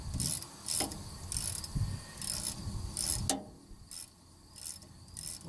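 A wrench ratchets to tighten the adjustment rod on an air-ride height control linkage under a flatbed trailer, giving a close, rasping rhythmic clicking in repeated short bursts over a faint background hiss.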